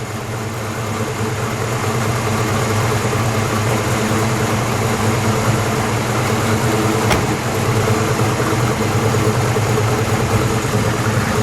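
A 1968 Pontiac GTO coupe engine idles steadily and close by, a continuous low rumble with an even loping pulse and no voices over it.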